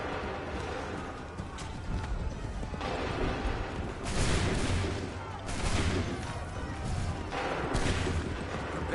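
Musket volleys from a line of soldiers in Assassin's Creed 3, several loud crackling bursts spaced a few seconds apart amid battlefield noise, with shouted commands between them.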